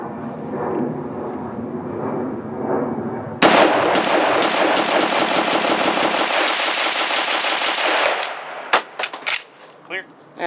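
Rapid semi-automatic bursts from an HMG 5.56 CETME rifle firing Silver Bear ammunition, loud close shots in a fast string for several seconds, then a few spaced final rounds, over faint background voices.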